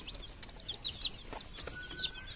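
Soft, repeated clucks and chirpy calls of a mother hen, a country chicken, at moderate distance, scattered irregularly over a faint background hiss.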